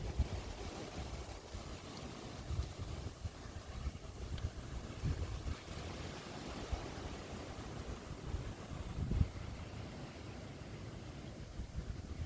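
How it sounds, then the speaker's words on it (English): Strong wind blows steadily by the ocean ahead of a storm, a dense, rumbling roar with low gusts buffeting the microphone throughout and no voices. "the wind has cooled down. It's still very windy."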